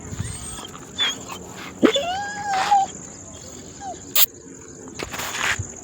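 A lost stray dog in a grape vineyard lets out a few thin, high whimpering whines, fairly close, over a steady chirr of crickets.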